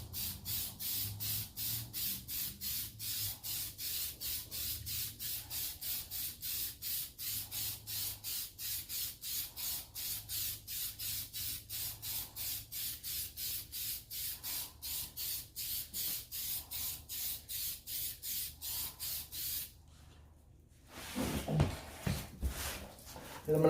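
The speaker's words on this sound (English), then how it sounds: "as I'm spraying right here, I'm going, it's just light, it's light sprays back and forth" Stove Bright spray paint hisses from an aerosol can in light back-and-forth passes, a long run of short, evenly spaced sprays that ends in a brief pause and a few rustling handling sounds.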